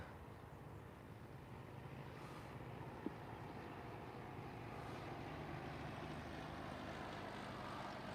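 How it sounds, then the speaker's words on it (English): A propeller plane drones steadily overhead, a low continuous engine rumble that stays fairly faint and even throughout, with no voices. "that plane is coming over here this way"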